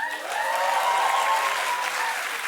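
Studio audience applauding on a daytime TV talk show, a dense, steady wash of clapping holding loud and even for the whole stretch, with some faint voices mixed into the crowd noise.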